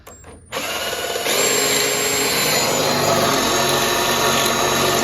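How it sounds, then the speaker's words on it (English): A power drill whines steadily at high speed, grinding through a metal plate on a 1976 4x4 camper van after a brief quiet start, loud and continuous with a sharp high-pitched tone. "Also drilling through that plate too,"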